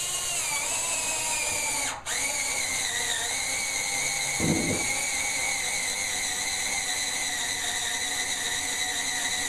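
A power drill drives self-tapping screws into window scrapers on a 1968-72 Chevy El Camino, producing a steady, loud, high-pitched whine that runs without a break and briefly dips once, heard close up without talk.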